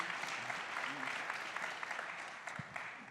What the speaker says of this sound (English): One more time, a round of applause for that.